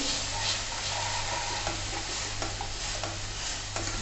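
Onions roast in a pan for jimikand sabji, stirred continuously with a dense, even sizzle and scraping over a low background hum.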